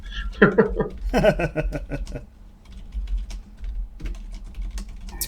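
Quick bursts of typing on a computer keyboard, clustered clicks near the mic, with a voice and a brief chuckle mixed in over faint background hum.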